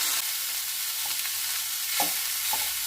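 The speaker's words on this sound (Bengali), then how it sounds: "এইভাবে উল্টে পাল্টে মাছগুলো ভাজা ভাজা করে নেব" Small chuno fish sizzle in a hot pan, a steady bright frying hiss with a few scraping knocks as the fish are stirred and turned.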